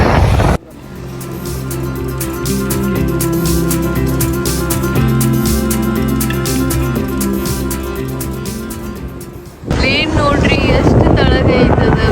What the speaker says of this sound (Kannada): ಬಟ್ ಗಾಳಿ ಭಾಳ ಥಂಡಿ ಆಗೋದೈತಿ